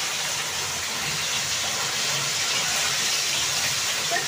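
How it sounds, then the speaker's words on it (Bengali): Heavy rain pours outside, a dense, steady hiss that stays even and loud throughout with no voices. "বাইরে মুষলধারে বৃষ্টি হচ্ছে সকাল থেকে"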